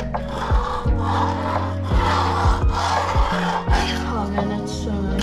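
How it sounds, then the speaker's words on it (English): Skateboard truck bushings from an unboxing being flexed by hand, giving repeated rubbery creaks and knocks in an irregular rhythm over a steady background, close and fairly loud. "Now let's try out these bushings. So they snap back right into place, as you can see."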